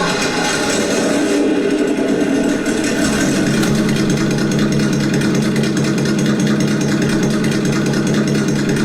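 A ZD Racing EX07 RC car with a Hoonigan Mustang body revs its electric motor in a loud, steady whine that holds at an even pitch for about nine seconds, with a busy mechanical buzz underneath.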